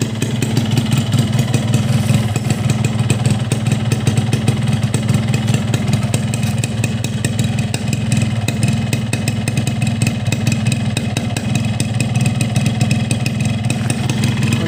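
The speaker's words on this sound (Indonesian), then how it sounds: "Untuk suara mesinnya sih masih tergolong normal" Two-stroke motorcycle engine running cold on Powerlube 2T oil with a standard oil setting, a loud steady close idle with a rapid buzzing, clattery pulse that holds evenly throughout.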